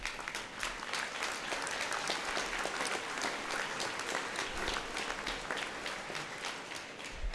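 A civic New Year's greetings audience applauds in a hall, a dense, steady clapping from many hands that lasts several seconds at an even level.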